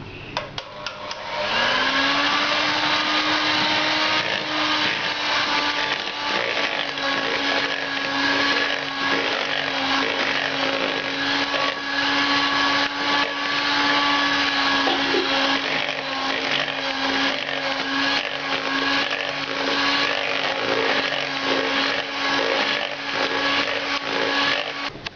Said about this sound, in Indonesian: Lalu kita kocok lagi dengan kecepatan tinggi selama lebih kurang 4 menit.